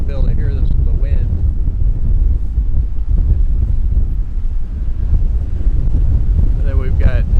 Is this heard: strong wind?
yes